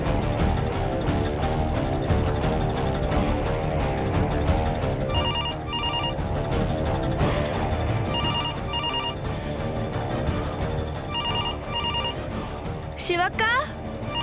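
A telephone rings in short repeated bursts of tonal chimes over a continuous bed of background music, moderately loud and close.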